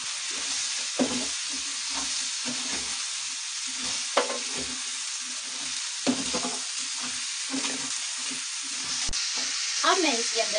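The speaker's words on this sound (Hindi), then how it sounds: "और सब्जियों को अच्छे से मिक्स कर लूंगी मैं।" Mixed vegetables for a restaurant-style sabzi are stirred in a frying pan, with a steady sizzle and repeated scraping strokes of the spoon, close and alone.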